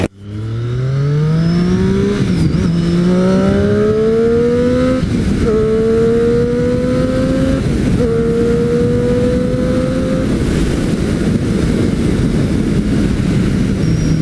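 A Triumph Street Triple 675 motorcycle accelerates hard, its engine note climbing through several gears with brief dips at each shift, loud and close over steady wind roar.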